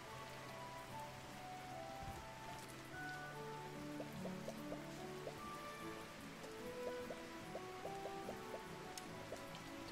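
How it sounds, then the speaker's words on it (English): Rain falls in Kitaria Fables as a soft, steady patter under light game music with plinking notes, quiet and continuous. "Oh, it is raining!"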